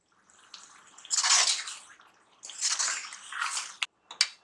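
Spinach puree poured into a cooking pan and stirred in for palak dum aloo, heard as wet sloshing and splattering bursts with a few short scrapes near the end, close and fairly quiet with no talking.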